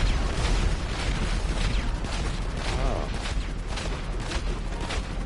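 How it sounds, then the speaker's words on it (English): Dense, continuous barrage of booming blasts and mechanical rumble, a missile launcher cannon firing repeatedly in GTA 5, loud and unbroken. "It's like a little missile launcher."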